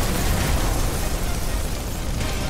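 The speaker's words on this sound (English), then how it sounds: "Nuke has been detonated." A nuclear blast in a GTA 5 roleplay server running a Fallout mod, a continuous loud roaring rumble filling the whole span without a break, with no speech.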